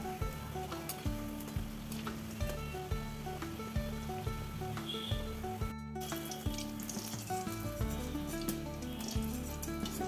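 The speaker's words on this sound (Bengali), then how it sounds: "একটু গরম হয়ে গেছে, আমি বেগুনগুলো দিয়ে দিচ্ছি।" Brinjal slices sizzle steadily in hot white oil for a chilli garlic fry, a continuous crackling fry with repeated low clunks and stirring, broken by one brief silent gap.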